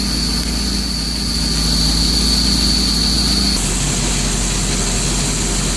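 A boat engine, warmed up to operating temperature while being winterized, idles with a steady, loud, unbroken drone that holds for the whole stretch with only a slight shift in tone partway through.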